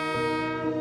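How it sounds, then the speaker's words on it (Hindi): A twin-tone horn on a railway locomotive sounds one steady, loud, close blast, two pitches held together in a rich chord that lasts the whole short moment with no voices. "आधुनिक विद्युत इंजनों में भी ट्विन टोन हॉर्न का प्रयोग किया जाता है।"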